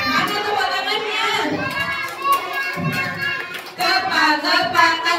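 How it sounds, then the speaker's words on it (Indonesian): Young children at a kindergarten Ramadan storytelling session clap their hands in bursts amid loud sung and shouted children's voices and a leading adult voice, lively and close. "Mana tepuk tangannya?"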